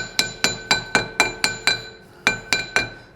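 Brass hammer striking a Honda Civic car part to loosen it, about eleven sharp metallic clinks in a steady rhythm with a short pause before the last three, close and loud with no talk.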